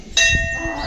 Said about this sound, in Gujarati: વગાડ ઘંટી